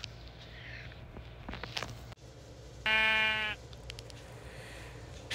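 A sheep lets out one loud, clear, wavering bleat lasting under a second, set against quieter rustling and footstep-like noises.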